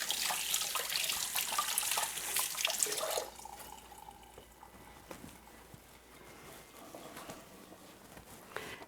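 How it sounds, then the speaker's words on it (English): Tap water runs steadily as hands are washed under it in a home kitchen sink. The loud flow cuts off after about three seconds, leaving scattered faint drips and small splashes. "I'm going to wash my hands"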